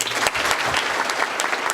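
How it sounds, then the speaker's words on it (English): Audience at a breakfast event giving a round of applause, a short burst of dense, close clapping from many people, loud and steady. "Let's give a round of applause to the press, to the Plus Company, and all the great work that they do."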